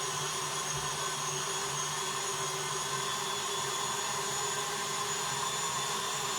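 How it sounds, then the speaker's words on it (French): Electric mixer whisking lemon icing for Easter shortbread cookies, a steady continuous motor whir holding an even drone throughout, close and fairly loud with no talking. "on laisse fouetter ça jusqu'à avoir une texture qui est facile à pocher"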